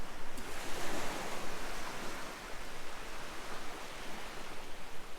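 Incoming tide on the Northumberland coast: a steady broadband wash of surf with rolling swells, heard from nearby with some wind buffeting the microphone and no voices.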